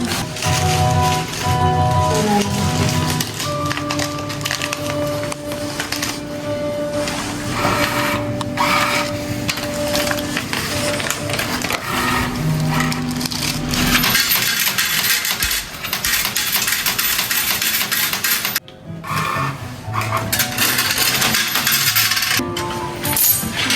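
Coin-operated clothes dryer at an Airbnb being started: coins clink and drop into the machine amid mechanical clattering and whirring, dense and close, with a brief pause near the end before the noise resumes.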